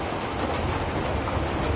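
A train runs steadily through the Konkan countryside, its continuous rumble and rushing noise close and loud, with a faint brief chirp above it.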